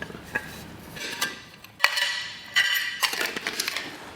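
Soaked metal nuts rattle and clink inside an old tobacco tin during a vintage outboard motor restoration, a run of sharp metallic scrapes and jingles in irregular bursts, close up, with no talking.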